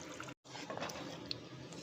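Water rinsed from a blender jar pours steadily into a paneer butter masala curry, a close, continuous splashing stream with one brief break near the start.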